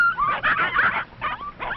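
Young puppies from a litter of seven whimpering in a short run of thin, high, wavering whines, close and fairly loud, with no voices.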